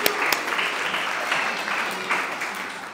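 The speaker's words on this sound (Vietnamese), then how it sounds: "xin quý vị trong tràng vỗ tay để chúc mừng cho Tân Lan và ban giám khảo trong tối ngày hôm nay." Wedding reception guests at a Vietnamese wedding in Emporium South Bank break into steady applause, a full close wash of clapping with a few sharper individual claps near the start.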